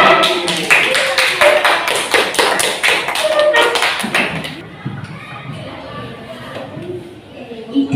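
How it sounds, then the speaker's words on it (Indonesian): Classroom applause for a student group in a grade 4 Indonesian lesson: a burst of clapping from many hands for about four seconds, then it fades into quieter room noise and scattered sounds. "Tepuk tangan untuk kelompok B"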